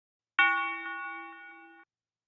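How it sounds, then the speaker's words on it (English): A church bell tone sits on top of an orchestral beat melody. One clear bright strike rings with a steady tone and fades slowly over about a second and a half, alone with no talk. "I just added the usual church bell."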